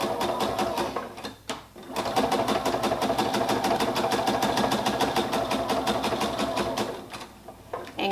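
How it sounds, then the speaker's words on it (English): A sewing machine runs a quarter-inch seam along a baby hat, its needle chattering in a fast, even rhythm from close up, broken by one short pause near the start and easing off toward the end. "And then we're gonna sew down the baby hat using 1/4 inch seam allowance."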